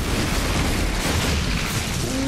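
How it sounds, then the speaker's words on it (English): Explosion from a thrown Thunderbolt of Zeus in a video game, a dense, loud rumbling boom that fills the whole moment with sustained low-end roar and no speech over it. "They just instantly explode."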